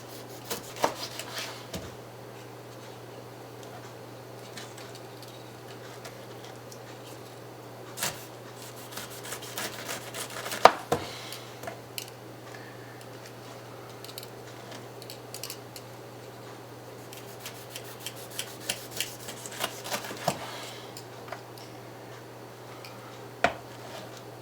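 A knife slices down the sides of a peeled pineapple, giving soft scraping and cutting strokes at irregular intervals with a few sharper clicks against a quiet, steady background hum.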